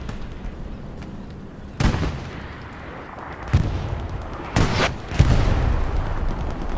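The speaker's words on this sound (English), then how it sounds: "the artillery has this garrison locked in" Artillery shells in the Hell Let Loose video game pound a garrison on the Purple Heart Lane map, with several sharp, heavy blasts spaced a second or two apart over a low rumbling battlefield bed.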